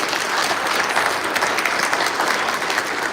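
Concert audience applauding at a 25th anniversary performance, a dense, steady wash of many hands clapping that stays loud and even throughout, with no pauses or voices standing out.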